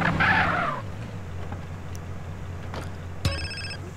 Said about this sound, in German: Oh, nochmal Ring Ring.